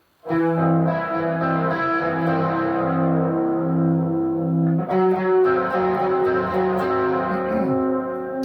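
Sustained electric guitar chords ring out heavily processed with echo and chorus, two long held chords each swelling and fading, loud and continuous with no voices.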